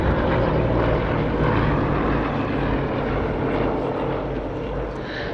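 Tiger Moth biplanes flying in formation at the East Kirkby airshow produce a steady, droning propeller engine hum that stays at an even level throughout, with no voices over it.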